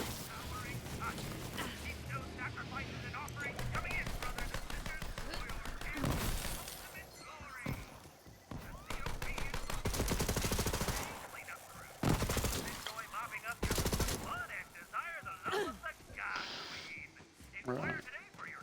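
Borderlands 3 gunfire crackles in dense, loud bursts with sharp impacts and breaking sounds, mixed with game effects and occasional talk.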